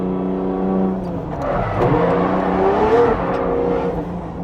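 A drift car's engine holds full throttle on dry asphalt, a loud, sustained rev that climbs and wavers in pitch as the car slides, steady throughout with no pauses.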